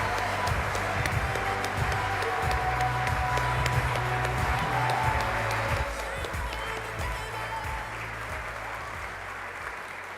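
A crowd at a Guernsey awards ceremony claps steadily and warmly for a winner, the dense applause holding strong before easing slightly toward the end.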